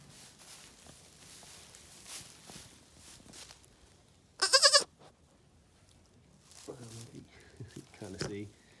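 Goats on a Texas farm give a loud, sharp bleat midway, followed by a few softer bleats, with a person talking at a distance and footsteps around them.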